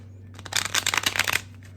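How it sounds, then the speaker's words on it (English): A deck of tarot cards is riffle-shuffled nearby in one short, crisp flurry of rapid flapping clicks that starts abruptly and stops just as quickly against a quiet room hum. "Man, I like your shuffles though"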